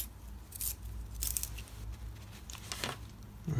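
A white colored pencil being sharpened, giving a series of dry crisp scraping and crunching bursts at an irregular rhythm, close and moderately loud over low room noise.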